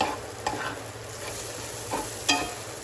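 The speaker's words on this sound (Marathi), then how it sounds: "तर आता कांदा आणि लसूण मस्त चांगला परतून झालेला आहे" Onion and garlic frying in a pan for an Agri Koli style tiny shrimp kolim dish, a steady close sizzle with a few brief scraping stirs of a spatula.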